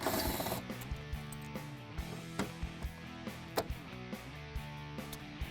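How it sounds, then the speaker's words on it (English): A ratchet clicks in short bursts as Torx bolts come out of a car bumper cover, with sharp, close mechanical ticks and pauses between turns over steady tonal music. "all this hardware, all these Torx bits have to come out"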